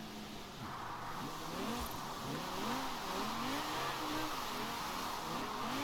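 Drifting car in Forza Horizon 4, a rare classic on racing tires, with a steady engine roar whose revs rise and fall in sweeping waves, plus a brief tire squeal, loud and continuous with no talking.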